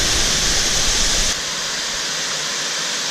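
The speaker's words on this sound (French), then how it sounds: "voici la vraie cascade de Chudong Bojong" The Curug Bojong waterfall in Indonesia roars as a loud, dense, continuous rush, then drops abruptly to a thinner, quieter hiss partway through, with no voices.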